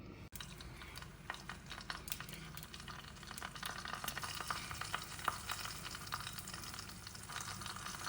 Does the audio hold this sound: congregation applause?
no